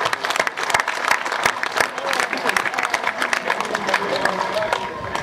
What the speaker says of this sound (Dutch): Ik vraag een applaus, wederom nu,